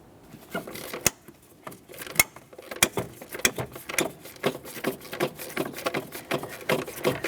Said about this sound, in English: We'll be removing this by using a 12mm.